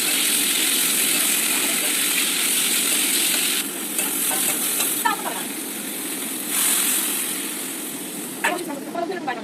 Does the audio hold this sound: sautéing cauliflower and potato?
yes